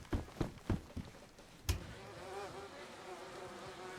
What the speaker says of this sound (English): now we need to go find or get the honey bees